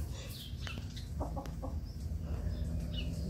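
Small young rooster clucking a few times in a backyard under an acerola tree, with short soft calls over steady low background noise.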